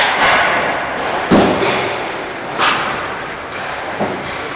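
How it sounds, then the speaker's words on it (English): A hockey puck passed between players in a collegiate women's game at an Arizona rink: several sharp, echoing thuds spaced about a second apart, ringing over a broad arena hiss. "you'll hear the echoing thud of the puck as it's passed between players"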